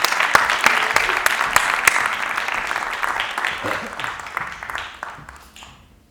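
Audience applause at a drumming workshop in Skopje on rhythm in drum playing: a dense burst of clapping with sharp individual claps near the start, thinning out and fading away over about six seconds.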